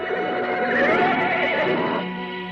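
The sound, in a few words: horse neighing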